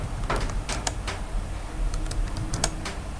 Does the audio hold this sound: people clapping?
no